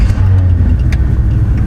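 A Chevy truck's engine, fitted with a blown-up turbo, fires up and runs close by with a loud, rumbling low growl and slight throttle variations, no talking over it.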